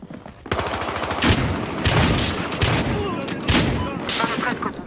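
A pump shotgun fires in rapid succession in the multiplayer shooter Battlefield Hardline, several loud booming blasts a second or so apart mixed with other gunfire.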